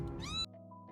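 A single close cat meow rising in pitch and then cutting off, followed by a quiet steady hum with no other sounds.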